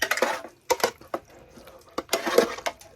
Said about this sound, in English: using my spoon, I'm just gonna use it to just marinate everything thoroughly